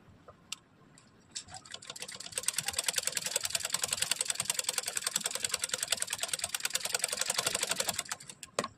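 Sewing machine stitching a cotton princess cut blouse: fast, steady mechanical needle clatter starts after a few scattered taps and runs evenly for several seconds at close range, then slows and stops, no talk.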